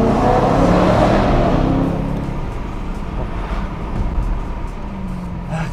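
BMW M3 engine revving hard in a road tunnel, loud and close with a booming echo, the roar strongest at first and then settling into a steady drone.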